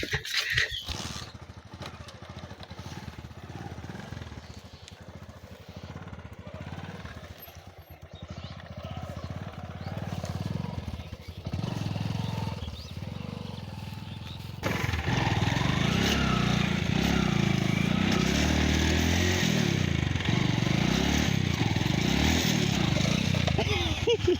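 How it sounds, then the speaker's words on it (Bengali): A motorcycle on a rough dirt road at a winter campsite, its engine rumbling steadily and growing noticeably louder in the second half, with people talking over it. "এই রাস্তা দিয়ে আসতে হয়েছে আমাদের মোটরসাইকেল নিয়ে, বাইক নিয়ে, খুবই টাফ ছিল"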